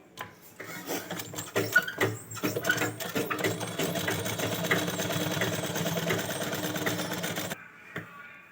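Sewing machine stitching the collar of a baby gown, short uneven bursts of whirring at first, then a sustained run of rapid mechanical stitching before stopping, with a brief rustle of fabric after.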